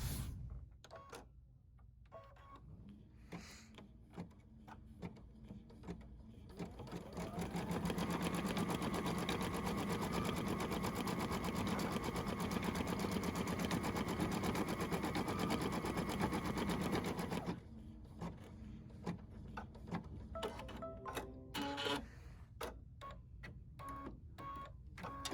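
A sewing machine runs a zigzag stitch on black fabric for a pet stocking, a fast, even whirring run lasting about ten seconds, with quieter handling sounds before and after.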